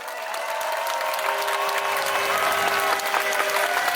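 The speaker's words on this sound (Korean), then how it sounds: "더 큰 박수 꼭 부탁드리겠습니다." Crowd applause at an outdoor protest rally in Changwon against Japan's Fukushima wastewater release, loud sustained clapping from a large gathering for about four seconds, with faint voices mixed in.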